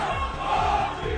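Crowds clashing in the streets of Paris as police fire tear gas, a loud roaring mass of shouting voices with no clear words, continuous and dense.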